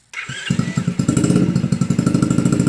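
A Motoped Survival bike's small engine starts up and runs loud and close, with a steady rapid chugging pulse for nearly three seconds.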